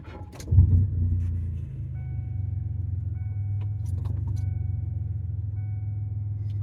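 Car engine starting with a sharp crank, then settling into a steady low idle hum close by, with faint dashboard chimes ticking on and off above it.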